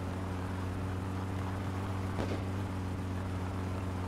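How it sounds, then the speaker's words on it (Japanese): Idling car engine in the driving game My Summer Car, running rough with unburnt fuel after choke trouble; a steady low drone with harmonic hum and one brief popping blip near the middle. "なんかパスンパスン行ってっからちゃんとガスの方が燃え切ってないんだろうな"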